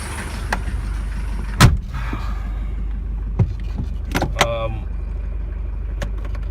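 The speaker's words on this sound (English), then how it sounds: "that's pretty much what these diesels sound like" A Mercedes-Benz 240D W123 diesel idling with a steady low rumbling clatter throughout, while a person talks over it and a few sharp clicks and knocks sound nearby.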